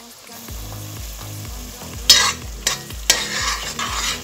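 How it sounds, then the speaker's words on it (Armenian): Mushroom pieces stirred into onions frying in a pan, with a steady sizzle and bursts of scraping spatula strokes against the pan. "այս սունկի կտորները պիտի հիմա խառնեմ ես սոխարածին, որ միասին տապակվեն"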